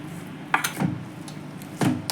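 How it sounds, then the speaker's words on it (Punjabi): Boiled potatoes mashed with a small bowl instead of a masher, giving soft dull knocks and clinks of the bowl against the dish, a few spaced taps at close range with no talk. "ਤੁਸੀਂ ਐਦਾਂ ਕੌਲੀ ਦੇ ਨਾਲ ਇਹਨਾਂ ਨੂੰ ਚੰਗੀ ਤਰ੍ਹਾਂ ਮੈਸ਼ ਕਰ ਲਿਓ"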